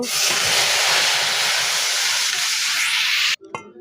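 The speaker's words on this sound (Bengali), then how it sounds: "এখানে কিন্তু আমি ডাল ঢেলে দিছি" Chickpea lentils poured into hot, well-reddened tempering oil erupt in a loud hissing sizzle that holds steady for a few seconds and then cuts off abruptly, leaving a brief quiet clatter.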